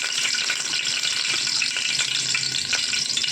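Bay leaves, peppercorns and cloves spluttering in hot oil for biryani, a close, continuous sizzle with faint crackles throughout.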